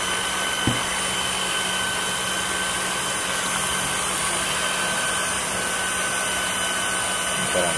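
Electric hand beater whipping cold cream on its lowest speed, a steady, even motor whir running alone throughout with no talk over it.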